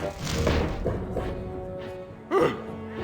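A cannon blast in The Curse of Monkey Island sends a character slamming backwards into a door, heard as a sudden cartoonish thud and crash near the end of a short, otherwise muffled stretch.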